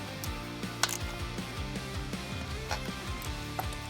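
Quick repeated ratchet clicks close by as motorcycle exhaust manifold bolts on an S&S 55mm manifold are snugged down, a steady mechanical ticking over a low hum with a few sharper metallic taps.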